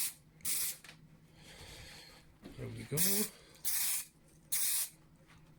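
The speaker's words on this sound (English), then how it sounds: "First coat of primer," Spray can laying a first coat of primer on a quad bike, heard as three loud, broad hissing bursts of about a second each, separated by pauses, with brief speech in between.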